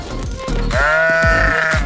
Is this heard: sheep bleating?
yes